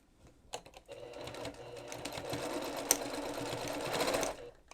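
An embroidery sewing machine stitches an in-the-hoop reverse appliqué bib on nylon fabric, a steady, close mechanical whirring and rapid needle clatter running continuously for several seconds before stopping.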